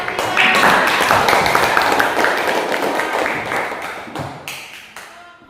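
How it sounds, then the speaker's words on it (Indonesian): A classroom of students applauds with dense, lively hand clapping that holds steady and then tapers off into a few scattered final claps. "Tepuk tangan untuk"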